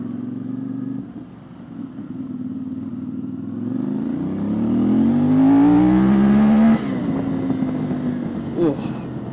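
A CFMOTO 450MT motorcycle accelerates hard through its gears, the engine note climbing steadily in pitch and loudness up to a sharp shift, then dropping before revving again, heard close up with wind noise.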